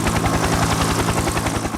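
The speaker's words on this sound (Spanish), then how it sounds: "Apareció una nueva generación de helicópteros. En cabeza estaba el Huey, el Bell UH-1." Bell UH-1 Huey military helicopter with its steady, rapid rotor thump, a loud continuous chopping pulse over a dense engine and turbine roar, heard close and alone.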